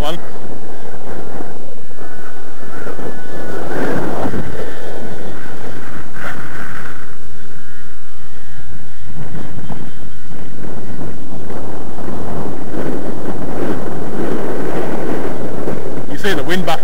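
Strong gusty wind buffets the microphone outdoors while a SPAD HL model plane is flown, giving loud, continuous rumbling roar with uneven surges, and someone talks over it at times.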